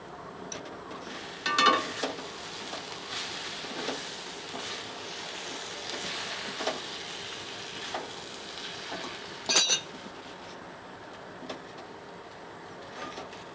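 Semolina and coconut are stirred in a pan for sujir naru, making soft, steady scraping and shuffling strokes with a faint sizzle, quiet and close, with a few sharper scrapes.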